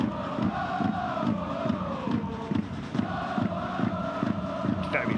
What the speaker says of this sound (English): Hear the groans from the crowd.